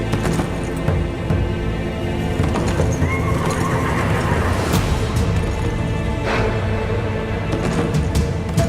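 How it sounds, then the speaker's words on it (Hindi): A horse neighs and whinnies as it arrives without a rider, its hooves clip-clopping beneath a busy, dense mix of ambient sound in a historical drama scene. "शहजादे अलाउद्दीन का घोड़ा अकेला आ रहा है।"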